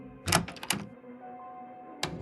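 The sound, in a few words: door to the lounge opening in video game Frequency Missing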